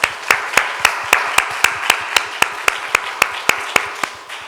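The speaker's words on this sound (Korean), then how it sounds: "이분들을 위해서 한번 감사의 박수 한번 하겠습니다" A church congregation claps in thanks during a Sunday worship service: strong, evenly spaced claps fall in a steady unison beat, several per second, loud and close throughout with no talk over them.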